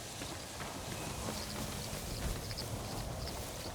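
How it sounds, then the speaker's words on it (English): A horse gallops in the samurai video game Ghost of Tsushima, with faint, steady hoofbeats under low ambient wind. "Get my horse."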